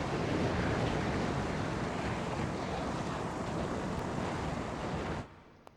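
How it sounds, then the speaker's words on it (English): Water rushes down past an opened dam in a Resident Evil video game cutscene, a loud steady roaring flow that cuts off abruptly near the end. "The water is running down the opposite side."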